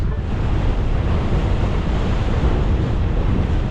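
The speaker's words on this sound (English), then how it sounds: "It is windy." Strong gusting wind roars across the microphone during a gravel bike ride on flooded winter trails, a loud, continuous, rumbling buffet that fills the whole stretch with no talking.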